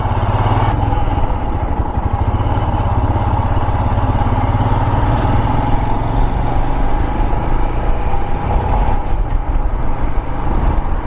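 A 2022 Royal Enfield Himalayan adventure motorcycle rides along steadily, its single-cylinder engine thrumming loud and close with a continuous even drone and no talk.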